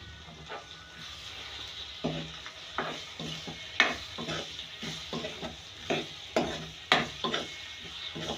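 Browned onions fry in a pan as masala is stirred in, a soft sizzle under repeated scraping and clinking strokes of a spoon against the pan, irregular and close.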